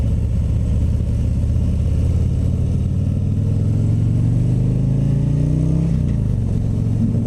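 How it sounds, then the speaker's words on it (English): A 2019 Harley-Davidson CVO Road Glide with its big 117 V-twin accelerates on a demo ride, a loud, close, deep engine rumble rising steadily in pitch with wind noise, then dropping as it shifts near the end. "with the 117, you've got a really big, powerful engine."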